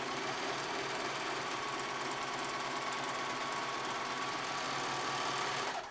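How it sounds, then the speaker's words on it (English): A serger overlock machine stitches and trims fabric shut, giving a steady, fast mechanical whir that runs unbroken at close range and then stops abruptly at the end, with no talking. "So now I'm going to serge these shut."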